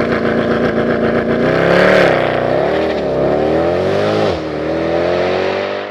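Loud car engine revving up and down close by, its pitch rising, falling and wavering as it accelerates, then dropping off sharply before settling into a steady drone.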